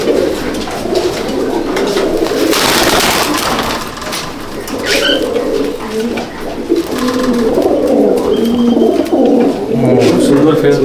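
Fancy pigeons in a loft in Howrah, repeated close, loud cooing and throaty rolling calls throughout, with some wing flutters and rustling, while someone talks over them.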